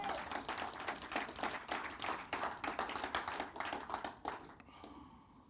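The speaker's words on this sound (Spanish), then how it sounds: "Dale un aplauso al Señor." A church congregation claps for the Lord during a sermon: steady, fairly dense clapping from many hands in a room that tapers off near the end, with a faint voice beneath it.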